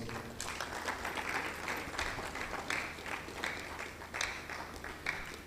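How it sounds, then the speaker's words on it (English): A crowd applauding steadily at a Meatless Monday Ghana event, dense clapping sustained throughout at moderate loudness with no voices. "let's give CIC Ghana a very big round of applause."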